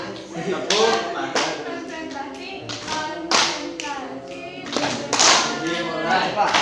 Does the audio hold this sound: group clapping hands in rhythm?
yes